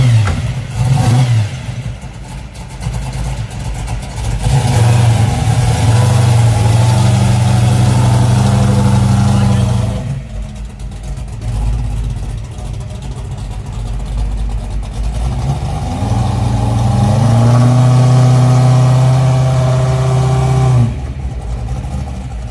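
A supercharged 396 engine in a 1970 Chevrolet Nova pro street car, running on pump gas, idles with a deep, lumpy rumble close by, then revs up hard several times before settling back to a loud idle.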